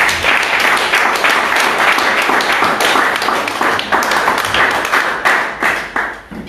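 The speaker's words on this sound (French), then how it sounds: "Nous acclamons le Seigneur." A church congregation bursts into loud, sustained applause, many hands clapping in a dense, enthusiastic wash that holds steady for several seconds before tapering slightly at the end.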